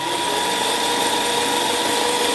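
The brushless electric motor of an HT C601 1/16 scale RC jeep runs at low speed with a steady, close, loud high-pitched whine and no pauses.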